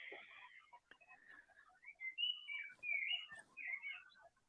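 Small bird chirping outdoors, with a series of faint, quick tweets and short whistled notes that come in clusters, quiet and alone.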